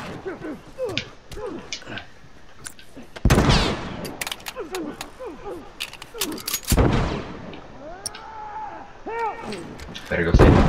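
Gunfire in The Last of Us Part II: several loud, sharp shots at irregular intervals, some booming heavily and close, mixed with shouting voices and people talking throughout.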